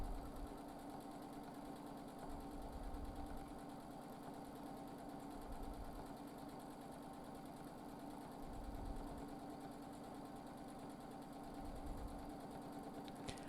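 A sewing machine doing free-motion quilting hums in a rapid, even stitching rattle that surges in short bursts and eases between them, close and fairly quiet, with no talking.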